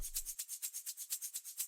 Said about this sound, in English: Then a shaker loop.